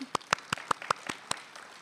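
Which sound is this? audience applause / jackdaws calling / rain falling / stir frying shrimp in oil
audience applause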